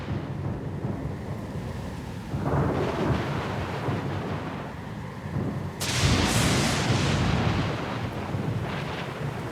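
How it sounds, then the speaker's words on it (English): A thunderstorm at sea in the video game Pillars of Eternity 2 Deadfire: steady rain and wind with deep rolling thunder that swells into a louder crash partway through, with no talking. "Lost and alone in the storm?"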